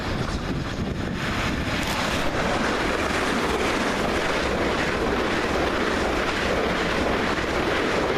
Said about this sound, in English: Flying through the station is 377462 and 377415.